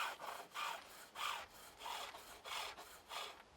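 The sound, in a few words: skew chisel cutting green wood on a pole lathe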